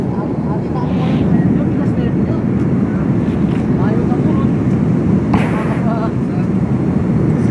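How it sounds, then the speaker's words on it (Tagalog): Steady, loud roar of an airliner cabin during descent to landing on a Jeddah to Riyadh flight, a broad continuous rumble with wind-like hiss and no spoken words. "Palapag na po yung aeroplano namin guys."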